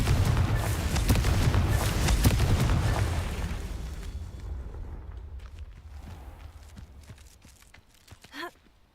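A Confringo fire spell explosion in Hogwarts Legacy, a loud rumbling blast that booms for a few seconds and slowly fades into scattered crackles and debris sounds.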